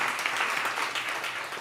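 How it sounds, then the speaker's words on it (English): An audience at a literary author talk breaks into a short burst of applause. Dense, even clapping sounds moderately loud and continues steadily throughout. "Clap again"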